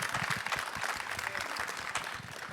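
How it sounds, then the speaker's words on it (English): A church congregation claps together during a sermon, a soft, steady patter of many hands that stays fairly distant and low in level for the whole stretch. "We can clap for that."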